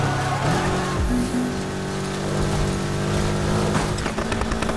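Car drifting in the racing game Need For Speed Heat, with a steady engine roar and tire scrub running continuously through a layered, sustained mix.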